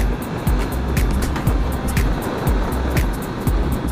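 A car cruising steadily at 90-100 km/h gives a continuous low road and engine rumble with wind and tyre noise, plus a regular soft thump about every half second, heard from inside.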